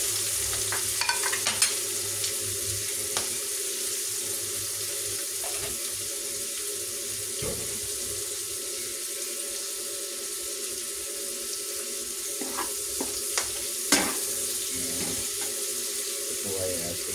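Tomatoes being sautéed in a pan for ginisang sayote with cabbage and ground pork, a steady close sizzle with scattered stirring scrapes and taps, plus a faint running-water hiss.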